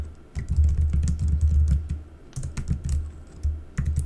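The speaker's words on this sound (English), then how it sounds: "type in my email address" Fingers tap out an email address on a computer keyboard in quick bursts of close, soft keystrokes with brief pauses between runs.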